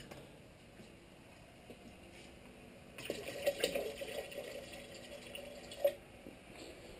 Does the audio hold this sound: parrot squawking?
no